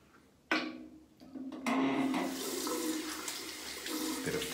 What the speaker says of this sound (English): Bit of faucet there.